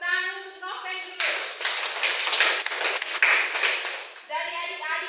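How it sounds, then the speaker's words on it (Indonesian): Seventh-grade students in a junior high social studies class clap for a classmate, a dense burst of close hand claps lasting about three seconds. A voice speaks just before and just after it. "tepuk tangan untuk Noven dulu"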